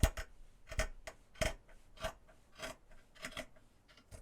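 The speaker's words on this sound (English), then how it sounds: "We're going to trim it. Just trim it." Scissors cut fabric glued to a softcover journal in a run of short, crisp snips, about a dozen evenly spaced strokes, close and quiet with no talking.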